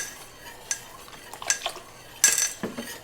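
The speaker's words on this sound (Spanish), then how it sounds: "Y no paramos de menearle. Es muy importante menearlo hasta que hierva." Champurrado made with milk or water, cinnamon and chocolate stirred in a pot: soft, intermittent scraping and clinking of a spoon against the pot, fairly faint, with no talking.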